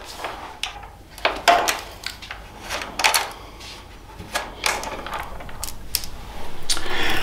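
A T27 socket on a ratchet loosens bolts on a 2021 Triumph Bonneville T120, heard as close, irregular ratcheting clicks and metallic clacks in short bursts, ending in a steadier rapid run of clicks.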